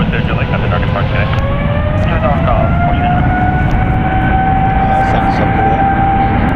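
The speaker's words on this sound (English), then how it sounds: "it's a Boeing 777-300ER, 3 years old, so enjoy these engines from the 777" A three-year-old Boeing 777-300ER at San Francisco International Airport roars on takeoff, a loud sustained jet engine rumble with a rising whine that bends upward as the aircraft passes close by.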